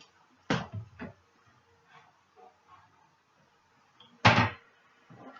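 A kitchen cupboard door swings open with a sharp knock and a second thud, then bangs shut a few seconds later, close and fairly loud against a quiet room with faint shuffling between.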